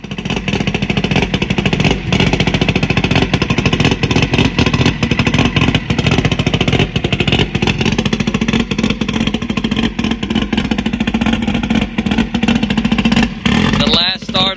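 A Honda race bike engine running close by, loud and steady, with a rough continuous roar and rapid pulsing, holding high revs almost throughout before a brief change at the end.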